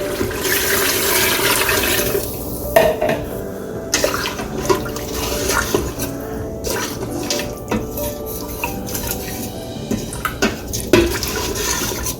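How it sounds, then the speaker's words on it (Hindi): Four cups of water pour into a pot of cooked beef haleem with a loud, continuous splashing rush, broken by scattered clinks of a pot and utensils, close up. "ये तकरीबन मेरा 4 कप पानी है, इसको हम डाल देंगे इसमें।"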